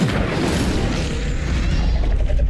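The Incendio fire spell cast in Hogwarts Legacy erupts as a loud, sustained, roaring burst with a deep rumbling body that holds steady throughout.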